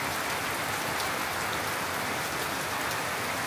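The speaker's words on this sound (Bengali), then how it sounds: "তবে এখন যে স্টাইলে বৃষ্টি হতেছে এটা একদম পারফেক্ট" Steady rain falls on a garden in late October, a dense even hiss of drops with no voices, constant and close throughout.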